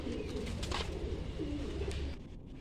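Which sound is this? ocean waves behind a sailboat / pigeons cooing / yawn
pigeons cooing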